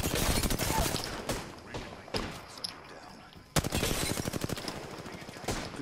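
Rapid automatic gunfire rattles in a video game shootout, with dense bursts of shots that break off briefly and then resume, loud and close, while a voice speaks faintly underneath.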